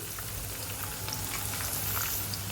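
Green chillies, red chillies and asafoetida frying in oil, a dense continuous close sizzle with fine crackling pops throughout.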